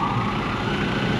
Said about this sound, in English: Oh, sirens are on.